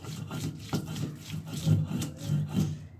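Onion, green chili and coriander being ground together on a stone for Bengali prawn kofta, a close rhythmic scraping and rubbing in repeated strokes.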